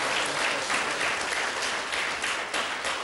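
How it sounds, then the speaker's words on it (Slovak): An audience breaks into sustained applause, a thick, even wash of many hands clapping at once that holds steady throughout. "Potlesk tej utečenkyni."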